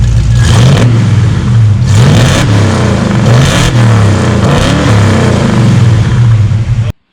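A Ford 351 Cleveland V8, freshly tuned, revs hard in several loud surges, its deep throbbing note climbing and settling between bursts with no talk over it.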